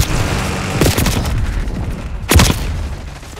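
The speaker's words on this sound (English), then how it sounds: "Concussion grenade out." A concussion grenade bursts amid rapid gunfire in the Black Ops 6 video game, with two loud blasts standing out over dense, continuous shooting at close range.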